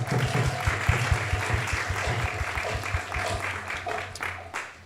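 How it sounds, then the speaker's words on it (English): A temple congregation welcomes newcomers with a modest round of applause, soft, scattered clapping in a reverberant hall, fading gradually toward the end. "A round of applause for our newcomers today."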